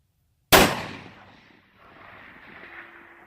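A single loud shot from a Remington 700 tactical .223 rifle fired outdoors on a windy range, a sharp crack followed by a long rolling echo that fades over about three seconds.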